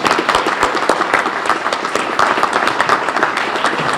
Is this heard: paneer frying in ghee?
no